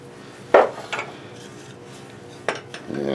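Metal step center knocked out of a wood lathe spindle: two sharp metallic clanks with lighter taps and rattles afterward, close and distinct in an otherwise quiet workshop.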